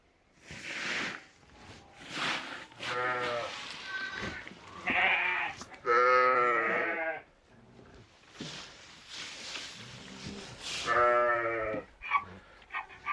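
Lambs and sheep bleat repeatedly at morning feeding, close by, with overlapping wavering cries; a person speaks briefly among the animal calls.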